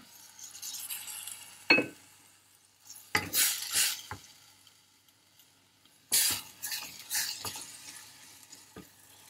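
Bursts of stirring and scraping as tomato puree is sautéed in a pan with a soft sizzle, three separate rounds with quiet pauses between, no voices.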